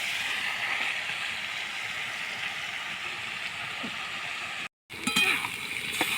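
Tomatoes, onions and black cumin fry in oil with a steady, close hissing sizzle that briefly cuts out, then returns with a few clinks.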